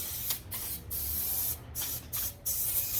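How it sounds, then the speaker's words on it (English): 3M headliner adhesive sprays onto foam during a 1993 Cobra sunroof headliner install, in several short hissing bursts with brief gaps between them, close and alone. "And I'm going to spray the foam"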